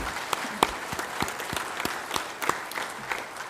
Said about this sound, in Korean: 격려하는 마음으로 힘차게 박수를 좀 한번 했으면 좋겠어요